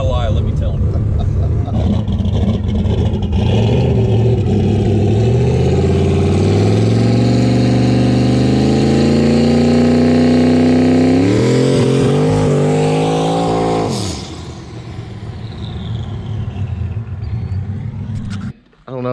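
Turbocharged 427 stroker Fox-body car with a hydraulic roller cam revs hard and loud from the cabin, engine pitch climbing steadily through a long pull before abruptly dropping off into a lower rumble, with talk mixed in.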